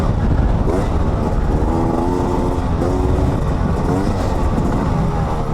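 A 2020 Beta 300RR two-stroke dirt bike ridden off-road with a broken front fender, its engine droning loud and steady with rising and falling revs throughout, no voices.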